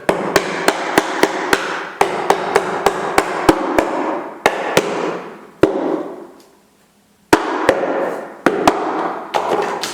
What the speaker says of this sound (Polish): Tutaj się przyda młotek.